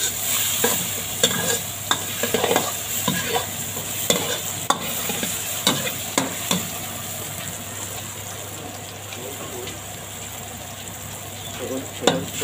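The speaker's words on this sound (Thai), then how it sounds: "ใส่พริกกระเทียมให้หอมเลยนะ" Chili and garlic sizzling hard in oil before giant squid wings are added, with a constant frying hiss punctuated by repeated sharp clanks and scrapes of a spatula against the wok, close and lively.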